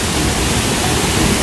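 Floodwater rushes over a provincial road in a loud, dense, unbroken roar, close and steady for a brief moment with no voices.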